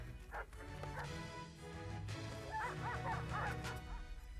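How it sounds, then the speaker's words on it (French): Hunting dogs barking and yipping in a string of excited calls with a few whimpers, moderately distant and faint over a low background hum, with a voice speaking briefly. "J'entends les chiens."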